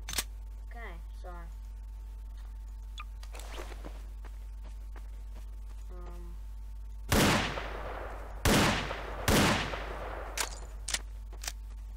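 Smith & Wesson Model 500 revolver fired in Gmod, three loud sharp booming shots spaced about a second apart, following quieter clicks and handling sounds.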